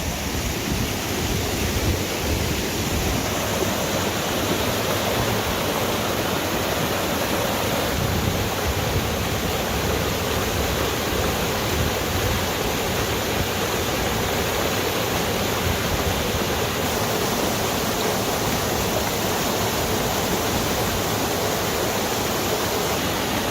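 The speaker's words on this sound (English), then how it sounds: "we've got a bridge and we have some waterfalls" Waterfalls pour beside a bridge in the Nant Gwernol woodland ravine in Wales, making a loud, steady broadband rush of falling water that continues without a break from start to end, with no voices.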